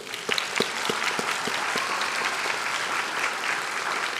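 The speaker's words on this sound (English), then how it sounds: "You can clap." Audience applause for a health science award winner at a nursing ceremony, starting with a few sharp distinct claps and swelling into a steady, moderately loud round of clapping from a sizable crowd.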